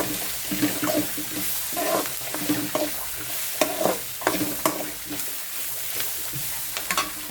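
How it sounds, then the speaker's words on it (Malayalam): Turmeric powder being stirred into a sizzling frying mixture, with a spoon scraping and clattering against the pan in irregular strokes over a steady, close-up sizzle. "മഞ്ഞൾപ്പൊടി ഇട്ടിട്ട് നന്നായിട്ട് ഇളക്കിയെടുക്കും"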